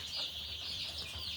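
Baby turkeys at a chicken farm give a steady, high-pitched chorus of peeping chirps that runs continuously at moderate loudness, with no talk over it.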